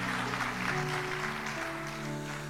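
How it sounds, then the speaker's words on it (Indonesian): Church congregation clapping together during a sermon, a dense continuous patter of many hands, moderately loud, with a sustained organ or keyboard tone under it. "Kita berikan tepuk tangan buat Tuhan Yesus."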